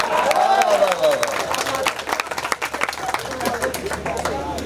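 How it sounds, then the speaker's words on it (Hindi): Audience at a mushaira bursting into applause, dense clapping and crowd murmur close by, with a voice speaking over it at the start. "ये शेर अच्छा था, आप ताली बजा सकते थे"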